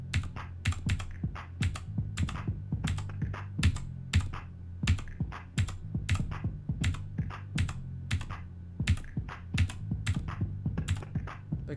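Steady, rapid clicking of arrow keys on a computer keyboard during a rhythm game, close and crisp, with music-like low tones running underneath and no talk.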